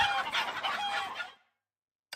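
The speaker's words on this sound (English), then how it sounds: "A multitude of hens stood in the ramshackle cabin, clucking lazily" Hens cluck lazily in a ramshackle chicken-coop cabin in Honkai Impact 3rd, a busy overlapping flock chatter for over a second, then silence broken by one short, sharp cluck near the end.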